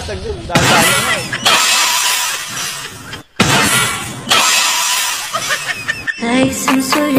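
Glass shattering and breaking in a couple of sharp crashing bursts, interleaved with loud talking and laughter, separated by brief silent cuts.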